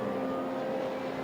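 A BMW Z4 GT3 race car on track at the Silverstone Festival gives a moderately distant, sustained engine drone with a steady pitch, heard alone without voices.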